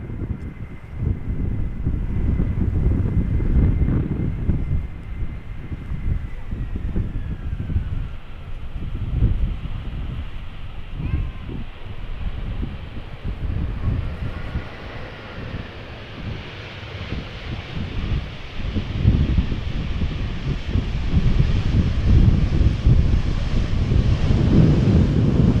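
A Suparna Boeing 747 rumbles at a distance over Schiphol amid heavy gusting wind, its low engine drone rising and falling under steady microphone buffeting, with no voices.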